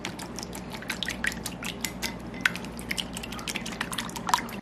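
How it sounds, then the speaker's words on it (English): Two eggs whisked together in a bowl while preparing fried eggplant, a rapid run of light clicking and tapping strokes with faint liquid slosh, steady and close throughout. "we're going to whisk this together"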